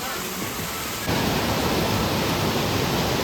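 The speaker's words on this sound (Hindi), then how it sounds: "भाई देखो यहाँ पे झरना है" Waterfall at Sahastradhara in Dehradun, a steady broadband roar of falling water that swells louder after the first second and stays constant and close throughout.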